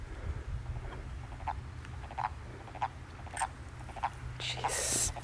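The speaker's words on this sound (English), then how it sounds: "gonna let these frogs keep at it." Wood frogs in a vernal pool call as a busy chorus of short, duck-like clucks repeating in uneven bursts, moderately close over a low background murmur.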